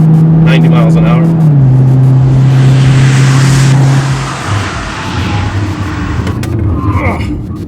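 A STaSIS-braked Audi Q5 slows hard from around 90 miles an hour on a race track: a loud, steady engine and road roar drops in pitch as speed bleeds off, then gives way to a quieter rumble, with a voice talking over it.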